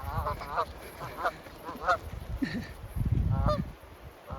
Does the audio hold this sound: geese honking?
yes